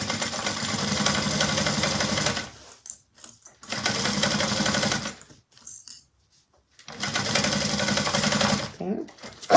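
A sewing machine runs in three steady bursts while basting a bag pattern piece, close and even-paced, separated by short quiet pauses.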